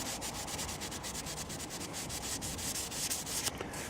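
Fine 900-grit sandpaper rubs across a knife blade being restored, a quiet steady rasp of rapid back-and-forth strokes, close up.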